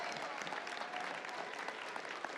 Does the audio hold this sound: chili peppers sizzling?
no